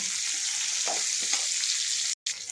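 Onions sauté in oil for an anchovy fish curry, giving a steady frying sizzle with a couple of soft stirring scrapes and a short break at the end.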